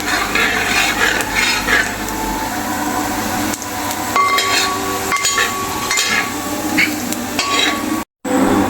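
Ginger and garlic sizzle in a pan for a fish pickle, with a steady frying crackle and spoon scraping as the mixture is stirred throughout, close and continuous.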